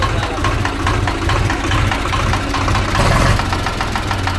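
An engine started in neutral with a suspected seized piston gives a loud, continuous rapid knocking over a steady idle, the tapping evenly repeated for the whole stretch.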